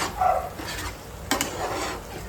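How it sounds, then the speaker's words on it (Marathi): A spoon stirs and mixes food frying in a pan, giving a steady sizzle with a couple of scraping clinks against the pan, close and alone. "व्यवस्थित मिक्स करून घेऊ आपण"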